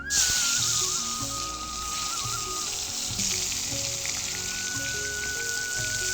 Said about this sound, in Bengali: এবার কড়াইতে দিয়ে দেবো সরষের তেল। এবার দিয়ে দেবো বেগুনগুলো।